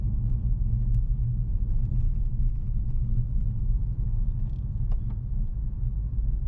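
A car drives along a road through remote Scotland, a steady low engine and tyre rumble from inside the vehicle that holds evenly throughout with no talk.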